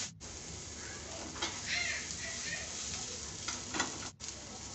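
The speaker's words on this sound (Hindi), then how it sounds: "सारी चीज़ें डाल के अच्छी तरह मिक्स करेंगे और अच्छी तरह इनको फ्राई करेंगे।" Chicken with green chili and lemon juice frying in a pan, a continuous close hiss with rustling surges from stirring and a brief cutout near the end.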